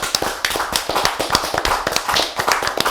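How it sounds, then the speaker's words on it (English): A small group clapping close by, quick uneven slaps of hands in a loose rhythm for a few seconds at an interview. "Can I get a round of applause"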